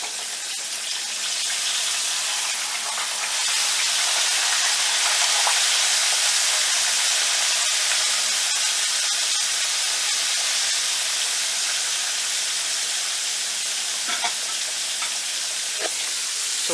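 Bluefish fillet frying skin-side down in a hot pan, a steady broadband sizzle with faint crackles and pops running continuously and close, no voices.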